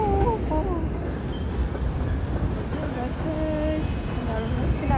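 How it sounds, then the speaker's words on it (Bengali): Rumbling train passing through a park, a steady loud roll with faint wheel squeals and some distant voices mixed in. "আরেকটা ট্রেন আসছে।"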